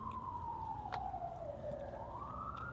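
A faint, far-off emergency vehicle siren outside in Los Angeles slowly sweeps down in pitch, then rises again, steady and unbroken beneath quiet background noise.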